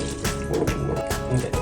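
Water pours into a pot of noodles for beef stroganoff, a steady close liquid splashing and gurgling that fills the background while people talk over it.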